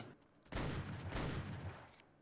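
A loud gunshot or burst of gunfire from the video game ARK erupts suddenly and fills the sound with a sustained booming roar that slowly fades, heard alone without speech.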